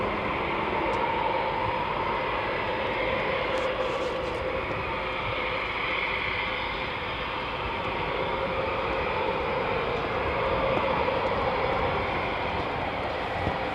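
Steady broadband roar of RAF Typhoon fighter jets flying at Coningsby, a continuous loud jet rush that swells slightly and holds for the whole stretch, with no voices.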